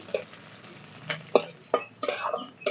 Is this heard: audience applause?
no